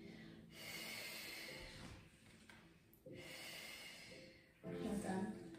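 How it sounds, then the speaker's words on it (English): During a barre workout with a long resistance band, a person breathes in strong, rhythmic cycles, forceful blowing exhales alternating with quick sniffing inhales, close and loud with short pauses between. "Blow it away, sniff it in."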